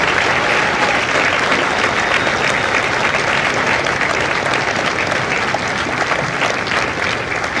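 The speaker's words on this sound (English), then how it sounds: "a round of applause for their dedicated service to corps and country" A large audience applauds steadily at a Marine Corps recruit graduation ceremony at MCRD San Diego, a loud, even wash of clapping from start to finish with no break.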